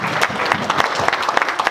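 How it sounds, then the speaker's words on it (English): Loud audience applause breaks out at a conference, a dense burst of clapping close by that stays strong for the short stretch, with a few sharper individual claps standing out. "I want some applause for that one."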